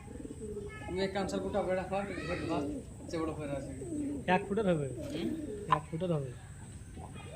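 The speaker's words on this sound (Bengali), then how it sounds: "বিশাল সাইজ পায়রা" Large pigeons coo softly in the background while people talk steadily over them throughout.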